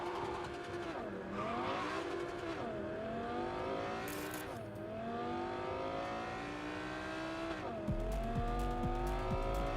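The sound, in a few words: race car engine in The Crew 2 video game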